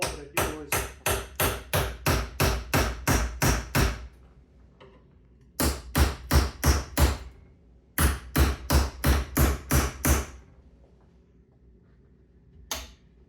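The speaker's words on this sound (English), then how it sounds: "I got just this little pry bar here. This thing's pretty handy, and a good old hammer." A hammer taps a small pry bar to break the seal on a kitchen sink, in three quick bursts of evenly spaced metallic knocks separated by short pauses, then one final tap, close and clear.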